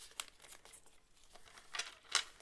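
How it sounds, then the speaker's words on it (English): Tarot cards being shuffled, giving quiet papery riffles and crinkles in irregular bursts, with two louder shuffles near the end, close by and without talk. "Okay, can we shuffle for me,"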